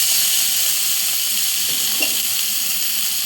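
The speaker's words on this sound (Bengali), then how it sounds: "আর সঙ্গে কয়েকটা বড়া ভাজবো।" Lentil fritters (bora) sizzling in hot oil, a steady bright crackle and hiss that holds evenly throughout with no talking over it.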